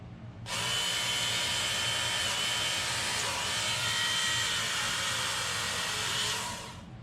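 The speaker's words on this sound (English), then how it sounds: "So might as well try this sponge thing on the knife sharpener. Work sharp." A Work Sharp electric knife sharpener, its belt fitted with a sponge attachment, whirs up and runs steadily for about six seconds at close range, a loud even motor drone that then winds down, with no talking.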